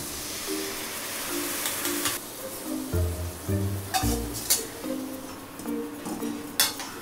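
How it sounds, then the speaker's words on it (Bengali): Chicken hits fried capsicum in a hot pan and sizzles with a steady, close hiss, broken by the clatter of stirring and a few sharp spatters. "এবার ওই ভাজা ক্যাপসিকামের মধ্যে আমি এই চিকেনটাকে এবার ছেড়ে দিচ্ছি"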